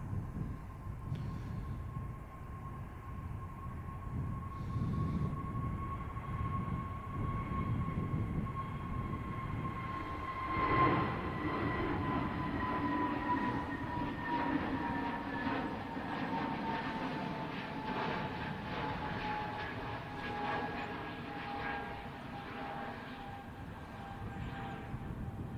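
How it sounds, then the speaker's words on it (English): An ITA Airways airliner taxis at Manchester Airport, its engines giving a steady distant hum with a sustained whining tone over a low rumble. The sound stays even and continuous throughout. "the beautiful ITA continues the taxi down Juliet"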